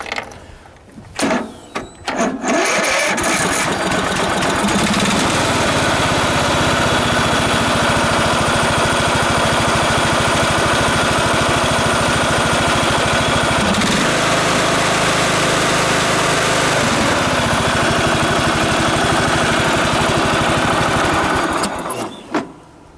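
Old riding lawnmower engine cranking with a few stuttering tries, then catching and running at a loud steady drone close by, rough and mechanical, before cutting off at the end.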